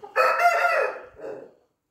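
A rooster crowing once on a poultry farm, a loud, close call that trails off into a softer tail.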